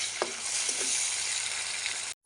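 Onions frying in hot oil with garlic paste and ginger paste in a Bengali home kitchen, a dense continuous sizzle with a few soft stirring knocks early on and a brief cut near the end.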